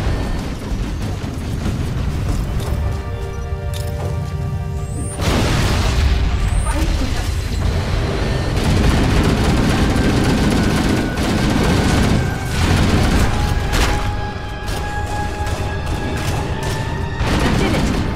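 Reactors blowing up in the video game Halo: Combat Evolved: loud, rolling booms and crackling bursts like gunfire, with heavy low rumble that swells sharply partway through, layered over sustained musical tones.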